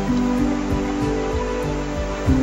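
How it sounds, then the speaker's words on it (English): Water boils in a saucepan with a steady close bubbling hiss over a low hum, without a break and without voices. "First, boil water into a saucepan."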